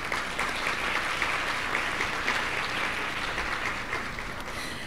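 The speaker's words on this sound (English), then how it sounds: "Please give her a round of applause." At a breast cancer awareness event held at a zoo, an audience gives a steady round of dense clapping that holds evenly for several seconds.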